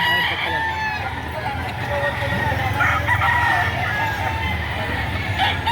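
Gamefowl at a roadside rooster market behind a mall in Lipa, Batangas, crowing and clucking amid a loud, busy crowd, with people talking nearby and a car faintly passing.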